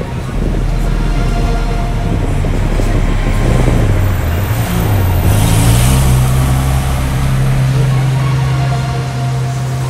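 A Ferrari F12 V12 supercar passes on a London street, a loud sustained engine note rising and falling as it drives by amid steady traffic rumble.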